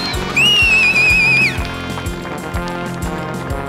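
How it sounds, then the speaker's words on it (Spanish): A person whistles one sustained, slightly wavering high note lasting about a second, heard clearly over a steady, rhythmic background beat that continues afterward. "Yo también puedo chiflar."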